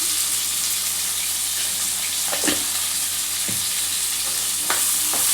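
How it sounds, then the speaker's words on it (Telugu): Onions with salt frying in a pan, a steady close hiss of sizzling oil with a few scraping stirs of a spoon against the pan, continuous with no talking. "ఈ ఉల్లిగడ్డ కొంచెం మగ్గాలంటే కొంచెం సాల్ట్ వేసుకుందాం మనం"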